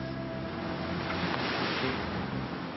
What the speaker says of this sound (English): waves sometimes coming up and splashing over us on the boat